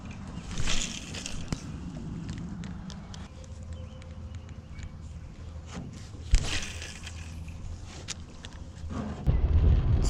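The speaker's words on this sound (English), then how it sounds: "Pretty windy out." Steady wind gusting over open water on a bass fishing trip, a continuous low rumble of wind buffeting the microphone with occasional louder gusts and faint splashes, no voices.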